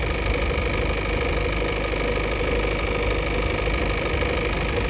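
A Ford Kuga Mk2.5 with an excessive-vibration fault idles close by, giving a steady, even hum with a faint knocking texture and no gaps for the whole stretch.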